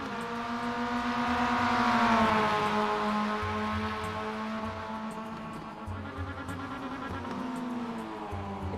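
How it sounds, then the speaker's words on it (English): A Mazda race car engine screaming at high revs at full throttle, its pitch climbing and sagging slightly as it holds on, loud and continuous without a break. "Someone is sitting at the top of that gearbox. Full throttle, absolutely no regard for their engine temperature."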